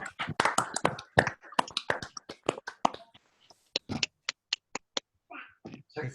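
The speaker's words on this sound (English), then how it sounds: "let's all unmute again and give one last round of applause" Scattered, uneven claps from a small online audience at the end of a lecture, coming as sparse separate bursts of different loudness rather than a full ovation.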